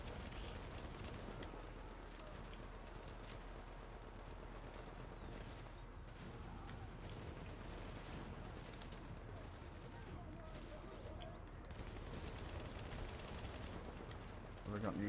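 Bursts of gunfire in The Division, rapid shots and clatter over dense combat noise throughout, with a voice talking at times.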